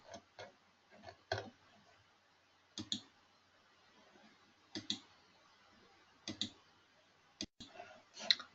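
Computer mouse clicks while saving in EPBCS software, heard as scattered, quiet, close single and double clicks in a near-silent room.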